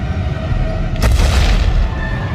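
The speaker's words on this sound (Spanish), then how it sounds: "De repente se oye un estruendo lejano. La tierra empieza a temblar." A distant deep boom rumbles as the ground begins to shake at the start of a massive prehistoric earthquake. It swells suddenly about a second in over a low continuous roar, then fades back to a steady rumble.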